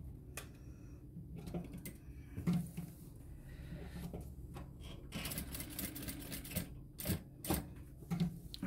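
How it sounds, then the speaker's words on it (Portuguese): A sewing machine stitching fabric while reinforcing a seam on a foldable cloth tote bag, a quiet steady rapid mechanical ticking with short pauses and faint handling sounds, close but low in level. "vou reforçar esta costura, procurando passar por cima do pontinho do anterior"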